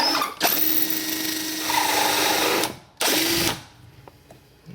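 A saw trims 10mm bullet jackets to length, giving a loud, steady mechanical whine for over two seconds, then a brief pause and a second shorter run before it winds down.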